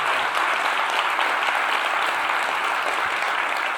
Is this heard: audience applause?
yes